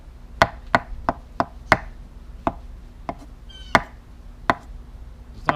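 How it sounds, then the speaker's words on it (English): Knife chopping Yukon Gold potatoes on a cutting board for potato salad: a dozen or so sharp, close, distinct strikes in an uneven rhythm, with no talking. "Got a lot of chopping to do here."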